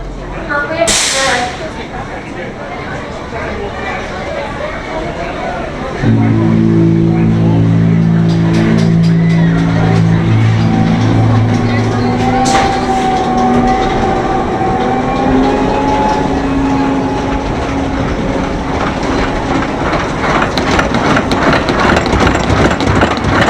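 Vortex, a suspended roller coaster at Canada's Wonderland, rumbles loudly on its track with rattling and a rising mechanical whine, heard near and continuous, with voices talking over it.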